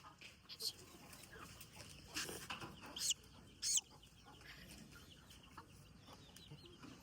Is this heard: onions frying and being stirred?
no